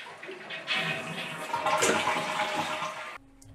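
A Glacier Bay toilet flushes with its water supply valve shut, a loud rushing swirl of water building for about three seconds before cutting off sharply into quiet.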